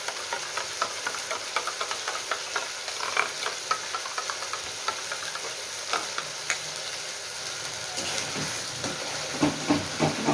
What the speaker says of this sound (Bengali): মশলা দিয়ে আরেকটু ভালো করে ফেটাতে হবে।